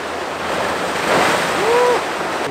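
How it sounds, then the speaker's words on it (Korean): Rough East Sea surf on Korea's east coast roars steadily with wind buffeting the microphone, waves swelling and crashing nearby. "파도가 워낙 세서"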